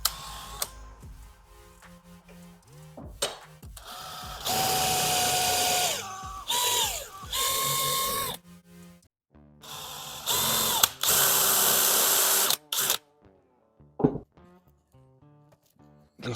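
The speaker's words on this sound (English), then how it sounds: "drill out the rivets, pull the back end off, take it all apart." A power drill bores out rivets on the exhaust silencer of a 2004 Honda CR250, loud whirring bursts of several seconds each with changing pitch, separated by clanks and handling noises up close.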